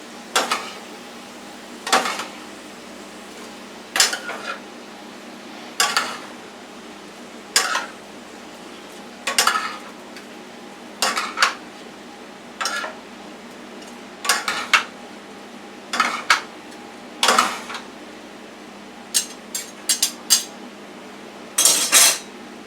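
A utensil scrapes and clanks against a pan while egg noodles, chicken and vegetables are stirred together, giving sharp metallic knocks at roughly regular intervals over a quiet background.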